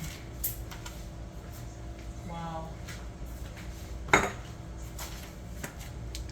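A warm pot of herbal oil being handled, with scattered metallic clinks and knocks and one sharp louder clank near the end, while a person talks in between.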